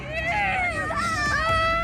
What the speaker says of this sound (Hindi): यहाँ चीख पुकार मची हुई है।